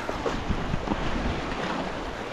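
Sea water washes over a beach in a steady, close rush of surf, blended with heavy wind buffeting the microphone, continuous and without any talk.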